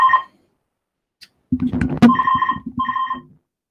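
An incoming call sets off a phone's electronic ringtone with a short chirp, a pause, then a longer warbling ring pattern in two close bursts, loud and near.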